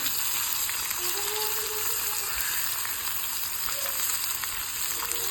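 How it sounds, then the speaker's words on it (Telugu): Onions and coriander leaves sizzle and fry steadily in a hot pan for Andhra-style tomato dal, a continuous close crackling hiss with no talking. "ఉల్లిపాయలు వేసేద్దామండి. దీనిలోనే కొంచెం కొత్తిమీర వేద్దామండి."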